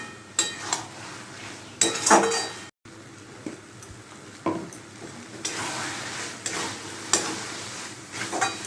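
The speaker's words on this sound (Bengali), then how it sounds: "তো একটু নেড়ে নিচ্ছি, জলটা শুকিয়ে এসছে।" A spoon stirs Bengali banana flower and potato curry, mochar ghonto, in a pan as the water cooks off. Intermittent scraping strokes and metal clinks sound over a faint, steady sizzle, with no talking.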